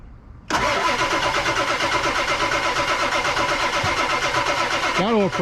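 A Ford 7.3 Powerstroke diesel in an abandoned Super Duty cranks on its starter, a loud, steady mechanical churn that kicks in after a short quiet stretch and runs for about five seconds without catching, with a few squeaky sounds near the end.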